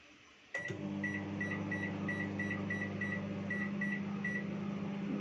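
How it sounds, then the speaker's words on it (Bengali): A microwave oven starts up with a click and then runs with a steady low hum and a faint rhythmic whir while steaming dim bhapa, with no talking. "মাইক্রোওভেনে এটা আমি 5 মিনিটের জন্য দিয়ে দিচ্ছি"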